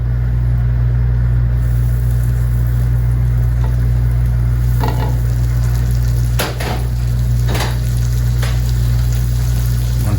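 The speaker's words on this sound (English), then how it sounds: "to the pan we're going to add our 2 tablespoons of butter" Butter melts in a hot pan over medium-high heat to start a roux for macaroni and cheese, a soft steady sizzle over a loud low hum, with a few sharp clacks from a utensil.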